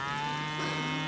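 Cows low on a Colorado mountain trail, a short, fairly close moo with a steady deep drone and no talking.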